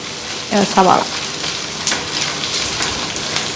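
Crushed garlic, crushed ginger and green chillies frying in hot oil in a pan, a steady close sizzle with a few spoon scrapes and clatters near the start, no talk.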